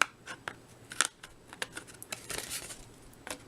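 Scissors trim a paper card in a series of short, crisp snips and rustles, close and fairly quiet, with no talking.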